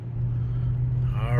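A Lexus LS430 with repaired air suspension pulls away on a test drive, a steady low engine rumble and road drone close by, rising slightly toward the end, with a voice speaking over it.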